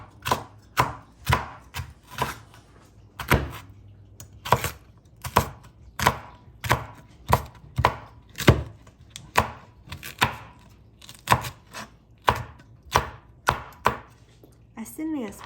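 A knife chops watermelon-salad ingredients on a board in a fast, even series of sharp knocks, roughly one per second and close, with no talking.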